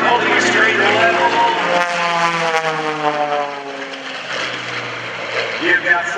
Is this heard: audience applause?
no